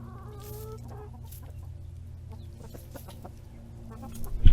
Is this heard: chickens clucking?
yes